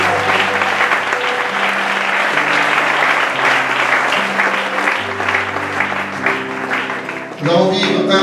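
Church congregation applauding during a worship service, a dense steady wash of clapping with sustained music underneath, continuing nearly the whole time before briefly dipping and resuming near the end.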